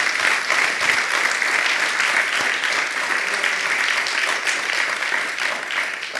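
Loud, dense applause from a church congregation fills the room continuously for several seconds, an even wash of clapping with no voices over it.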